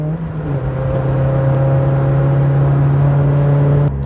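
A 1986 Toyota AE86 Corolla GT engine drones loudly and steadily at high revs, then cuts off sharply near the end as a gear changes.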